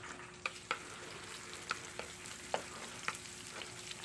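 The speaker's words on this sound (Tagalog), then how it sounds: "nagisa na po tayo sa mga sangkap" Garlic, onion and other ingredients for chicken liver igado sauté in a pan, a soft steady sizzle broken by a few sharp stirring scrapes and taps, fairly quiet and close.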